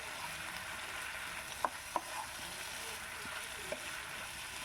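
Fried tangra fish cooks in a pan with a little hot water, giving a soft steady bubbling sizzle and a few sharp taps of a utensil, close and fairly quiet, no speech.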